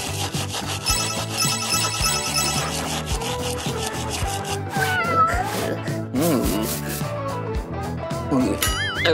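A house cat meows several times, in short wavering cries spaced out over busy background music and rubbing or scraping noises.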